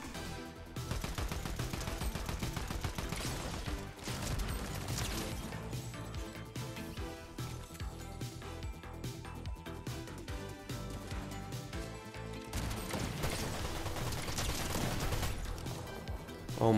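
In Fortnite, rapid SMG bursts crack and rattle nearly continuously, loud and close, with brief pauses between strings of shots and impacts.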